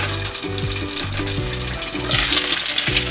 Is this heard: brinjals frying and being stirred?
yes